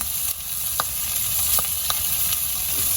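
Pork sizzles and fries steadily in hot oil for a sinigang with bamboo shoots, a continuous crackling hiss with a few sharper pops and brief stirring scrapes, close and fairly loud with no voices.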